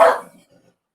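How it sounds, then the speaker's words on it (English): A dog gives one short, loud bark close by that fades quickly into near silence. "Hey, what you barking at?"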